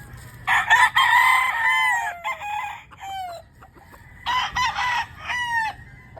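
Pure Super Brown Red Mount Banahaw broodstag roosters crow repeatedly and close by, with several overlapping cock-a-doodle-doo calls in bursts and short clucks between them, and no talking.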